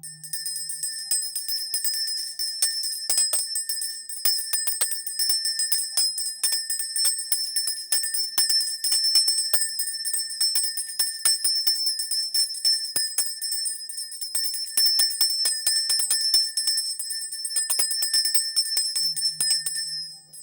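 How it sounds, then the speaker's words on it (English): A handheld bell rings steadily and loudly for about twenty seconds, its bright sustained tones shimmering with repeated strikes, the only sound present. "I'm going to ring this bell."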